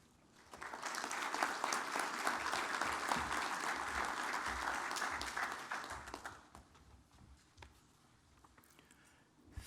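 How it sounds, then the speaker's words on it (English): Audience applause at an aviation stakeholders convention opening ceremony in Kenya, a steady roar of many hands clapping for about six seconds before fading to scattered claps. "Shall we give him another round of applause, please?"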